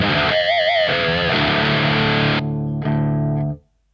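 An electric guitar through a ZUTA distortion pedal rings out loud, saturated chords with wobbling overtones, then cuts off and returns in a few shorter distorted stabs before fading.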